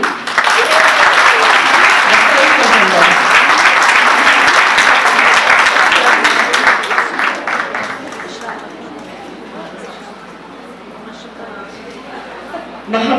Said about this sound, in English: With a huge round of applause, I welcome Abdul Salam Chaudhary,